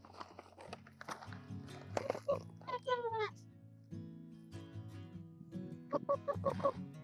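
Backyard chickens cluck and squawk in bursts around their coop, moderately close and fairly quiet, with rustling movement between the calls.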